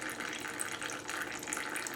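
Engine oil drains in a steady trickling stream from a 1965 Ford Mustang engine during a rebuild, a continuous faint splashing pour that runs unbroken and alone, with no voices.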